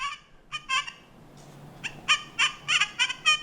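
XP Deus 2 metal detector giving repeated chirpy, warbling tones over a heavy 925 flat silver chain, a run of short bursts in uneven rhythm, close and clear.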